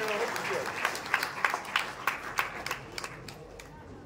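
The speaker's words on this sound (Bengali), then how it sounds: "জোরে হাততালি" Audience applause at a postal division award ceremony in a hall, with sustained clapping from a crowd, rhythmic peaks of hand claps, moderately loud and fairly near, a voice speaking briefly over it.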